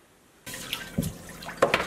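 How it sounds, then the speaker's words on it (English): A cast iron pan rinsed under a sink tap, with water suddenly gushing on and splashing against the metal, punctuated by a few sharper clanks and splashes as the pan shifts, close and with no talking. "I'm gonna take over the sink and rinse it out just like we did the other one"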